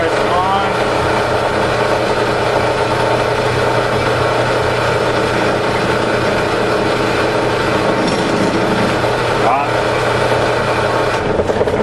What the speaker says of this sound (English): So we'll kick the drill press on.